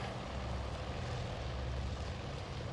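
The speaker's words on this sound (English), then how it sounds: "last takeoffs from Lexington" Aircraft lift off from the carrier Lexington in the naval game Task Force Admiral, a continuous broadband propeller-engine roar that holds steady and fairly even throughout, with no voices.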